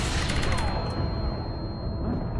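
Gunfire and a blast from a grenade thrown in Resident Evil 4, dense and continuous with rapid shots and an explosion layered throughout, loud in the mix.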